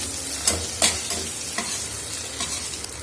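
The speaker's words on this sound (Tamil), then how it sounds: "கருவேப்பிலை, அதுக்கப்புறம் பச்சை மிளகாய் நல்லா வதக்கிக்கோங்க" Curry leaves and green chillies sauté in hot oil in a pan while a banana-flower kootu is being cooked. A close, steady sizzle runs throughout, broken by scraping spatula stirs and a few sharp pops, with no voices.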